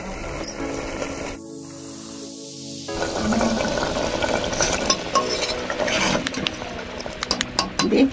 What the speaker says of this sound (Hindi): मसाले को मुझे बहुत अच्छी तरह भूनना है